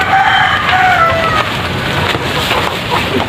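A native hen clucks and calls while laying eggs, close and loud, with drawn-out tonal cackles at first and then rougher noise.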